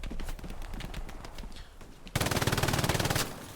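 A fortified MG position in the Hell Let Loose game opens up: scattered distant shots give way to a loud, rapid sustained burst of machine gun fire that cuts off just before the end.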